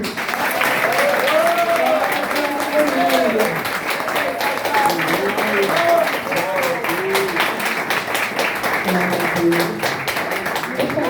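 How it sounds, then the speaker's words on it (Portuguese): Loud, sustained applause from a large church congregation, with cheering voices mixed in, steady throughout. "salva de palmas para Jesus"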